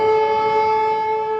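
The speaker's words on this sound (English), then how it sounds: "Very often they say the sirens are almost back to back." An air raid civil defense siren wails in Ukraine, a loud sustained steady tone with strong harmonics that holds without a break.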